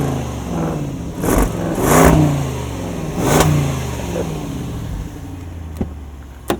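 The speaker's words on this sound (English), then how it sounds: "let's give it some revs." A 2022 Land Rover Defender V8 two-door engine revs up in a few bursts, rising and falling with a deep throaty, somewhat muted exhaust, then settles back to idle.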